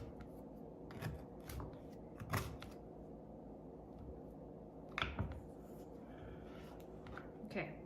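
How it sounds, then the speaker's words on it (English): A knife slicing a piece out of a frosted cranberry orange cake on a plate, heard as a few soft, close scraping and tapping cuts spread across a quiet kitchen background. "cut a nice piece out of it so I can show you what it looks like"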